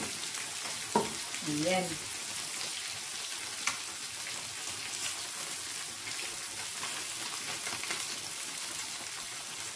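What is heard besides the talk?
frying fish and okra in a pan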